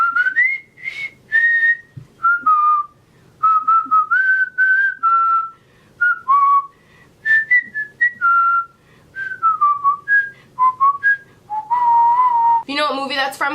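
Someone whistles a lively tune of short, clear notes in a melodic run, close and loud, with brief pauses between phrases.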